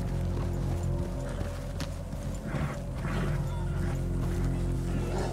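Horse hooves clopping in Red Dead Redemption 2 at a camp with sheep and goats, a steady close run of hoof beats over game music and ambience.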